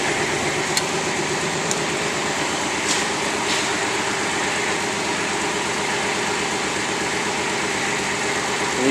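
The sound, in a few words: Kubota KX41 diesel mini excavator idling, hydraulics moving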